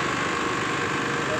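A petrol generator set with a faulty capacitor runs steadily, producing a constant close engine drone with no change in pitch or level.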